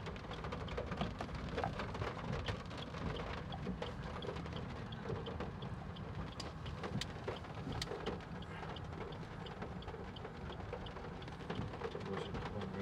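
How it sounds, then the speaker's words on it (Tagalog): Heavy rainy-season rain in Zamboanga City pours steadily on a vehicle while driving, a dense continuous roar with small drop impacts and faint low rumbles underneath. "Ang ulan."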